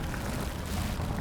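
An Incendio fire spell in Hogwarts Legacy sends out a brief, steady roaring whoosh of flame, broad and rumbling with no distinct onset or tail.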